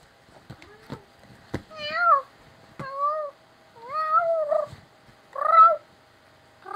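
A cat in the video game Stray meows clearly and up close: about four drawn-out, rising-and-falling calls separated by short pauses, with a few soft clicks between them.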